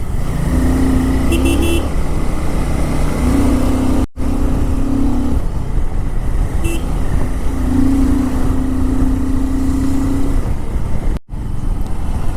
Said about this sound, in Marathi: ट्रक लोडेड असल्यामुळे किती स्लो चाललेत.